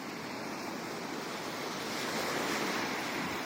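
Baltic Sea waves wash onto a German beach in September with a loud, continuous roar of surf and some wind buffeting, swelling slightly toward the end with no voices.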